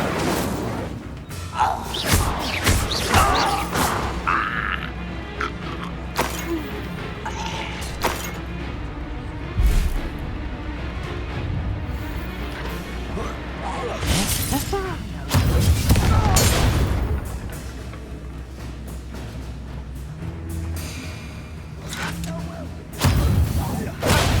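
A fire spell is cast during combat in the Hogwarts Legacy video game, amid repeated booming blasts, thuds and bursts of magical impacts, with voices calling out between the hits.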